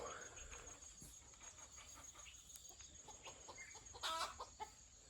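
Chickens on a farm cluck faintly and at a distance in the evening, with a few short bursts standing out over a quiet background.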